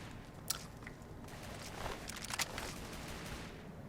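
Automated turret firing in Fallout 3, a few sharp distant bursts of gunfire over a steady low game ambience.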